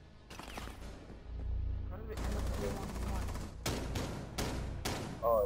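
Several sharp bursts of gunfire in Rainbow Six Siege, including shotgun blasts, come in distinct loud cracks separated by short pauses, with a denser volley in the middle and game noise between them.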